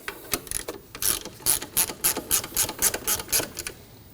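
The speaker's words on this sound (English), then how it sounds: "To lock down the tensioner, we'll tighten down this bolt" A ratchet cranks a tensioner bolt tight on a 2003–2006 Subaru Baja engine, a close, loud run of quick rhythmic clicking strokes that speed into a steady series before stopping.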